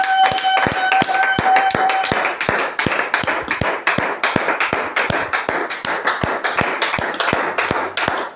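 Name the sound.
church congregation applauding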